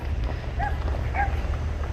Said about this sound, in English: See, they do have dogs.